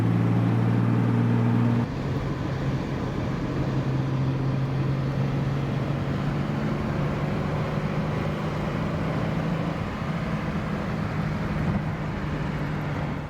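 A Jaguar E-Type engine drones steadily, heard from inside the moving car, with a low hum and wind rush; pitch shifts slightly as the throttle is squeezed, and a brief tone drops away early on.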